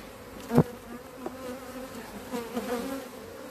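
Honey bees buzz at an opened hive during an early spring inspection, faint and close, with a steady hum and a few louder passes as single bees fly near.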